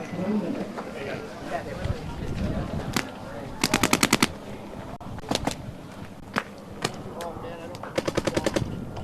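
Paintball guns fire in rapid bursts and single pops during a paintball match on an outdoor field, sharp and fairly close, with people shouting and talking throughout.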